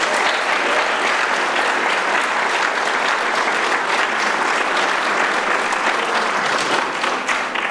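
An audience at an evening event at the Cinémathèque suisse gives a long round of loud, even applause, many hands clapping steadily and densely throughout.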